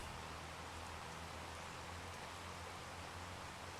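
Steady, unbroken rain hiss in Farming Simulator 25, a dense broadband downpour of even loudness that runs the whole time with no voices over it.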